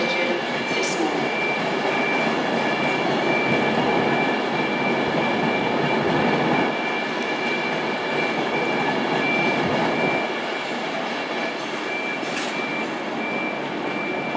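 A train pulls out of London Euston on the West Coast Main Line, a steady close rumble of wheels and engine with a sustained two-tone horn over it, fading slightly toward the end.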